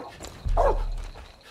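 A single dog bark in Far Cry 5, one short gruff woof standing out against faint game ambience.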